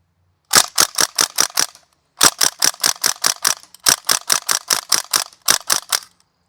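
Bursts of sharp gas blowback shots from a North East Sten airsoft gun, fired in quick strings of about six, ten and four rounds with brief pauses, close and loud with no talk.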